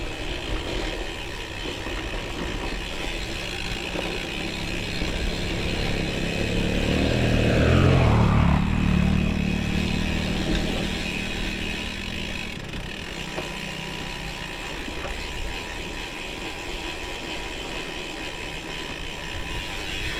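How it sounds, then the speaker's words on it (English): A dirt bike engine drones past in the distance on a gravel road, a faint buzzing that swells to a peak midway and then fades back into steady background noise. "There's a dirt bike."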